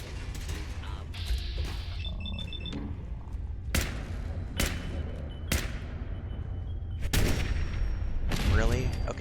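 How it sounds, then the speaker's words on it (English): A machine gun turret in Fallout 4 fires several sharp, loud bursts spaced a second or so apart over a rumbling game background, with some faint voices in the mix. "got the machine gun turret now"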